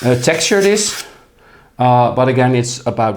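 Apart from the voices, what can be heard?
None of the usual background noises is heard.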